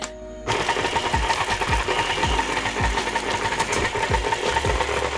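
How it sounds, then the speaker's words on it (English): An electric stand mixer starts up and churns keto double chocolate cookie dough with baking soda, a loud steady motor whir with a rhythmic thumping as the beater turns. "we're gonna turn it on and let it mix up all together."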